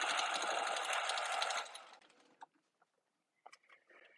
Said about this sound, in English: So I'm just sewing the front and the back facings together now.